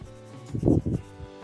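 An eraser rubbing out a drawing, heard as a short cluster of close, soft scrubbing strokes in the middle of an otherwise quiet moment.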